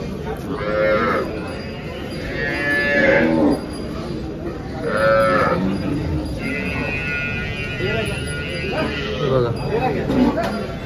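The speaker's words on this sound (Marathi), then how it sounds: "आता ही जी गाय आहे ही सायवाल मध्ये आहे" A Sahiwal cow at a busy cattle market lets out several drawn-out, loud moos in succession, with voices and market chatter murmuring underneath between calls.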